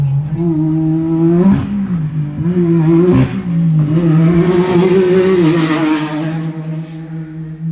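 A T910 UTV race car at the High Desert 100 in Powell, Wyoming roars past with a droning, shifting engine note that rises and swells as it passes close, under commentators' talk.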